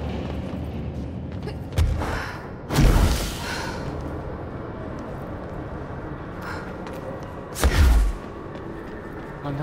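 Gunfire at a sniper in the video game Control: a few heavy, booming shots with deep thuds, two close together early and another later, separated by quieter in-game ambience.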